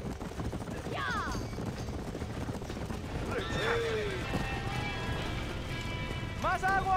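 Horses neighing and whinnying inside a burning barn in the Red Dead Redemption video game, several shrill calls in turn over clip-clopping hooves and crackling background, with voices talking.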